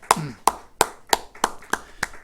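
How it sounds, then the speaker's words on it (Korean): A few hands clapping in a quiet church during a Sunday worship service, seven sharp, evenly spaced claps in a slow steady rhythm, close and distinct. "우리에게 은혜를 주신 하나님께 큰 박수로 영광 돌려드리겠습니다"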